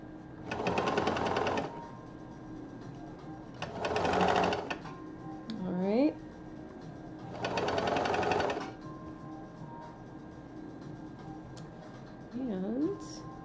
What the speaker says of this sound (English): If you have speed control on your serger, now is a wonderful time to use it.